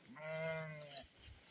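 A single sheep or lamb gives one clear, faint bleat lasting about a second out on open pasture, with a quiet outdoor background after it.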